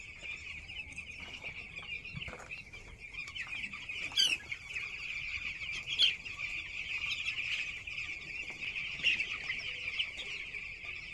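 A dense, continuous chorus of many chicks peeping inside a poultry farm shed, with a few sharper, louder calls rising above the steady high twittering and no talking.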